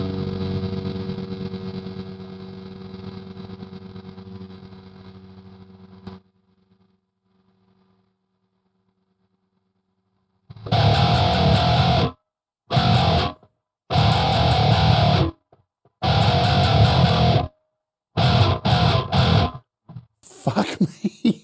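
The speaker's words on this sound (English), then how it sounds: "let's add some distortion to this now" Distorted bass guitar tone played through the Stray Cat Purrist amp app on an iPad: a loud sustained gritty drone that cuts to silence, then returns as a series of heavy chopped bursts, with no talking.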